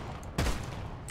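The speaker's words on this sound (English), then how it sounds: "Oh, this is a little shotgun boy." A single loud shotgun blast in the game Deep Rock Galactic, a sudden close boom with a deep low thump that fades quickly into steady cave ambience.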